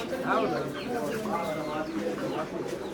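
Pigeons cooing at a busy Bangladeshi pigeon market, a dense layer of low coos and calls from many nearby birds mixed with crowd chatter and voices talking throughout.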